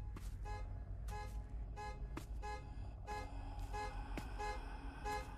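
Car alarm sounding in the video game Surrounded, repeated pulsing horn-like blasts in a steady rhythm, faint and distant.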